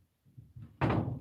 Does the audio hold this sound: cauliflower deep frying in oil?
no